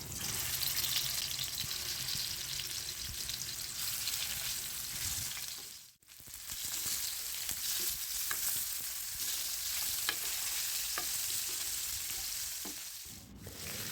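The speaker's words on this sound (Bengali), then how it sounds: "এখন একটি কড়াইতে কিছুটা তেল দিয়ে মাছগুলো ভেজে নিব।" Pangas fish pieces frying in oil in a wok produce a loud, continuous close sizzle, briefly dipping once midway and scattered with small pops, with no talking.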